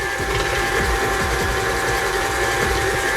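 A KitchenAid stand mixer runs steadily at close range, its motor whirring loudly with a rhythmic mechanical clatter of the beater turning through batter, continuous for the whole stretch with no voices.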